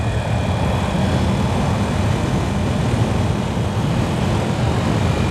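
A 2020 Yamaha R1M sport motorcycle carries a steady, loud engine drone as it rides into a turn, with a continuous low roar and no speech.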